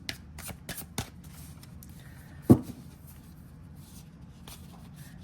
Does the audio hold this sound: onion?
no